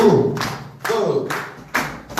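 A worship congregation stomps in a march during a song, heavy rhythmic thuds landing roughly every second, with scattered claps and faint voices in the room.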